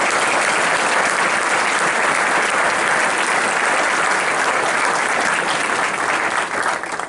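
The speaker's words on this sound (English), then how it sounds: "Please, a round of applause for Dr. Kondrashova." Loud, sustained audience applause for Dr. Kondrashova at an academic ceremony, a dense wash of clapping that holds steady for about seven seconds before easing slightly at the end.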